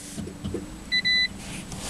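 A Toyota Prius starting up after the power button is pressed with a foot on the brake, giving two short electronic beeps in a quiet cabin over a low background hum.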